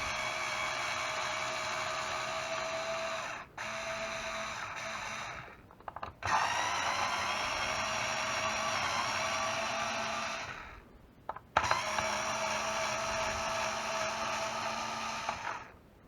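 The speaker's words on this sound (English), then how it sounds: "I'm going to take my little handy electric drill, screw off, and I'm going to take the neck off" An electric drill drives out the neck screws of a guitar in three sustained whirring runs, each separated by brief pauses, close and fairly loud with no talking.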